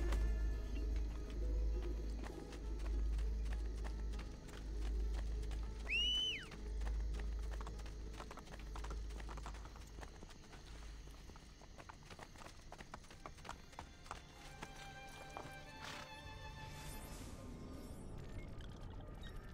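Steady clip-clop of horse hooves in Assassin's Creed Brotherhood, rhythmic and continuous at moderate distance, with a brief whinny early on and faint birdsong in the background.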